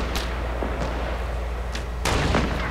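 Sniper rifle shots in Fortnite, a few sharp cracks spaced apart with a louder, heavier blast near the end, no talking.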